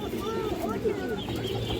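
Pigeons cooing amid a busy pigeon market, low murmuring coos blending into crowd noise while people talk nearby.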